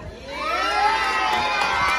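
A crowd at a Miss Gay pageant in San Isidro, Masantol, Pampanga shouts and cheers in a loud, rising roar, with many high excited voices blending together and no single voice standing out.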